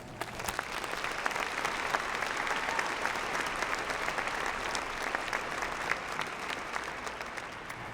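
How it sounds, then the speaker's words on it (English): A large commencement audience gives sustained applause for the graduates' parents, a dense, steady wash of clapping that holds evenly for about eight seconds with no talk over it. "Let's take a moment to provide them with a round of applause and our thanks."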